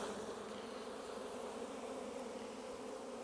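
Honeybees swarm around an opened hive frame during a varroa mite check, a dense, continuous buzzing drone hovering close with no voices over it.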